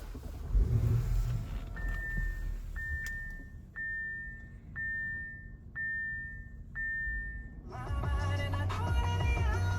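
A 2021 Audi SQ5 being started: a repeated high starter-chime tone pulses for several seconds before the engine catches and settles into a steady, fairly quiet idle.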